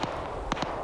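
Video game gunfire during a competitive team match, heard as a few sharp, fairly loud bursts of shots in quick succession over a steady background wash.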